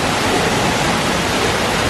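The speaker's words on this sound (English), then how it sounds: "Got a really neat waterfall scene here" A waterfall in the lush, plant-filled Pandora – The World of Avatar area at Disney's Animal Kingdom gives a steady, loud, full-bodied rush of falling water that fills the whole moment without a break, and no voices are heard.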